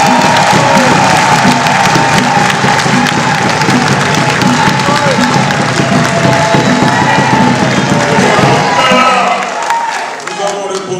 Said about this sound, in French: je voudrais que vous applaudissiez